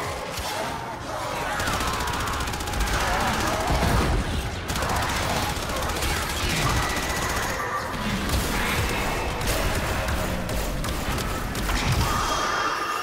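Sustained weapon fire in the Warframe video game keeps up as dense, rattling chatter. It is loud and continuous, with occasional crashes and thuds layered over the busy combat.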